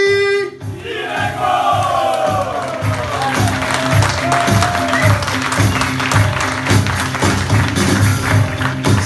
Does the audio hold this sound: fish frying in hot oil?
no